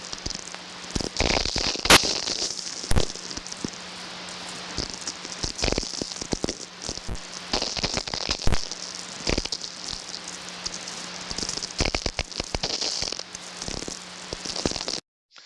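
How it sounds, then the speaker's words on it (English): Radio spherics from distant lightning come through an amateur radio receiver as an irregular stream of sharp pops and crackles over a steady hiss, loud and alone, stopping abruptly at the end. "So that popping and crackling sound is basically the lightning over long distances."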